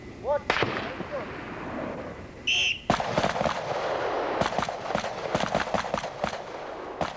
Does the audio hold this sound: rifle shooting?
yes